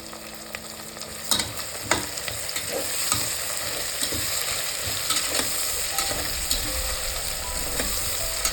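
Soya rice with mint and coriander fries in a pot, a steady close sizzle broken by repeated scraping stirs and clinks of the spoon. Nobody speaks.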